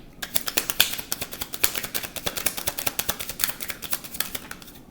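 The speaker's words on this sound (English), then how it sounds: "Am I shuffling the cards too fast?" Tarot cards are shuffled quickly by hand, a fast run of crisp, papery flicks and snaps in close succession, near and fairly quiet, with no talking.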